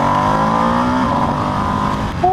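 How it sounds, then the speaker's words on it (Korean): Ducati Streetfighter V2S twin-cylinder motorcycle exhaust droning steadily while riding, a loud continuous engine note with a pitch change near the end. "지금 느껴지는 배기음도 약간 좀 심심한 느낌이 살짝 있거든요"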